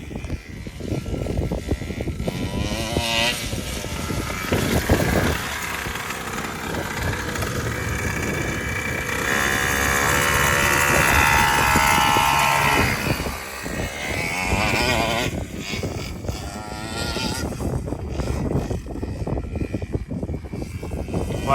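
A Primal RC Raminator gas-powered RC monster truck drives with a steady, buzzing small-engine drone that swells louder midway and then eases back, heard fairly close throughout.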